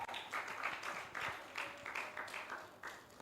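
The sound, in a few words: audience clapping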